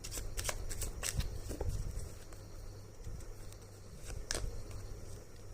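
Tarot cards are shuffled and drawn nearby in a rapid run of riffling flicks and soft slaps, with paper rustle throughout and no voice.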